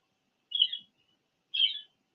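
A pet budgie sings in the morning, giving two short, bright chirps about a second apart against silence.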